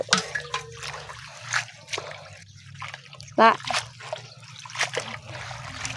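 Vegetables rinsed by hand in water, with intermittent drips, trickles and light splashes under someone speaking throughout.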